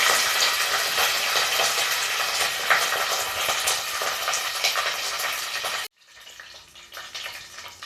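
Dried red chillies and curry leaves hitting hot mustard oil for a sambar tempering, a loud steady crackling sizzle that cuts off abruptly, then a quieter sizzle resumes.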